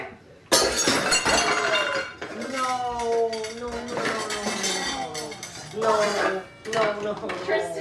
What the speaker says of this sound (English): I broke Mom's bowl